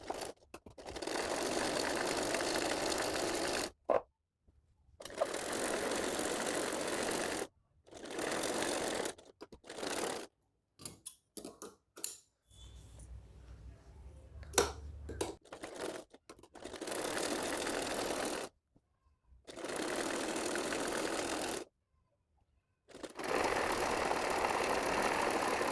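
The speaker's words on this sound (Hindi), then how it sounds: "इसके बाद हम अपनी साइड से सिलाई लगाएंगे।" A sewing machine stitches the side seams of a girl's top in short bursts of fast whirring, broken by silent pauses and a few soft clicks of handling the fabric.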